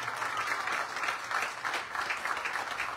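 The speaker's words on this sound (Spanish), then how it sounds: "mándele un fuerte aplauso." A crowd at a community event handing out documents and equipment gives a strong round of applause, a thick, continuous clatter of many hands pulsing slightly in waves for three seconds.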